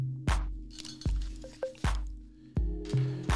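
Bouncy copyright-free background music track called Feeding the Ducks playing in StreamYard, with plucky, percussive notes and short bright hits recurring in a steady, playful rhythm, with no voices.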